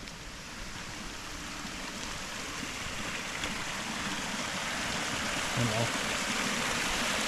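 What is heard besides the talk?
strong river current flowing over rocks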